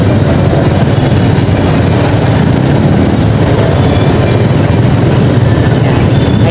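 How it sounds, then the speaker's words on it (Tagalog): A loud, steady rumble of an LRT train rolling past nearby on a street in Libertad, with continuous rail noise and faint wheel squeals throughout. "Ayan na po yung LRT."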